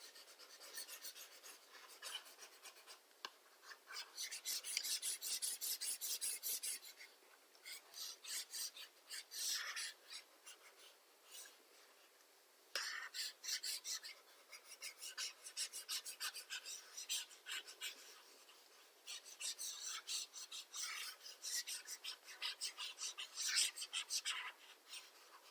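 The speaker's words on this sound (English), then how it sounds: "Let me first erase here." A board eraser rubbing out chalk or marker writing in bursts of rasping strokes, close and moderately loud, broken by short pauses and continuing for most of the stretch.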